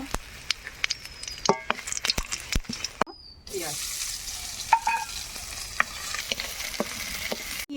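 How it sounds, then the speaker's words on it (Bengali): Spices with panch phoron, dried red chillies and bay leaves sizzle in hot oil in a wok, with sharp clatters and stirring scrapes in the first seconds, then a steady frying crackle and occasional pops. "এবার কড়াই গরম হয়ে গিয়েছে এবার মশলাগুলো কষে নেব তেলটা ঢেলে নেব পাঁচফোড়ন দিয়ে দেব শুকনো লঙ্কা তেজপাতা"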